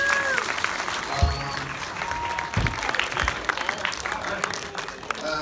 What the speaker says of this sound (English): Another round of applause for these guys here.